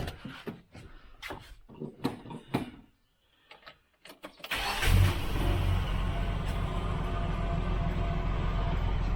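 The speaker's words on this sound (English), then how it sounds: "That's idling at about 900 RPM at the moment, or 950." A Nissan GQ Patrol with a TB42 engine and Holley 350 carburettor cranks after a few clicks and taps, then settles into a loud, steady idle that carries on to the end.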